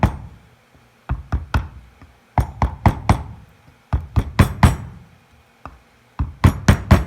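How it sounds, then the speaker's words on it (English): A rubber mallet strikes a wooden block to tap a front bearing seal into a 1987 Pontiac Fiero. Sharp, close knocks come in quick bursts of three to five blows, separated by short pauses. "I got a rubber mallet and part of a wooden block. And with it fairly squared away, I'm just gonna lightly tap this thing in."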